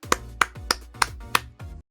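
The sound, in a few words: applause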